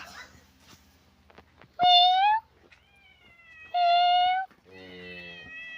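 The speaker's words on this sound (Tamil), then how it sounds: "நம்ம பூனை மியாவ் மியாவ்னா நம்ம கிட்ட வந்துடும்" Two loud, clear cat meows with quieter mewing between them, up close over faint background noise, at a farm during evening cow milking.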